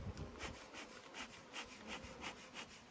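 Honey bees swarm and buzz around a large hive, a steady layered drone with pulsing swells roughly every half second, close and continuous with no voices.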